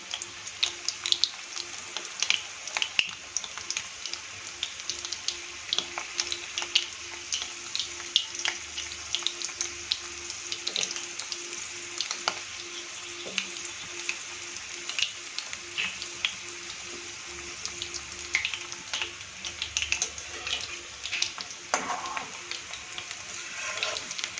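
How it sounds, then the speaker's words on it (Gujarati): Gujarati dana muthiya dumplings fry in oil in a pan, giving a steady close crackling sizzle with scattered pops throughout. "ત્યાં સુધી આપણે એને ફ્રાય થવા દઈશું"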